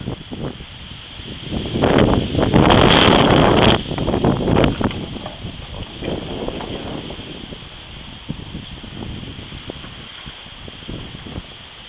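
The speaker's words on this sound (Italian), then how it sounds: "sentite il rombo del vento con un'altra raffica pesantissima" Heavy wind in a thunderstorm roars and buffets the microphone in surging gusts, strongest early on, then settling into a steady rushing blow, at Vittorio Veneto, Italy.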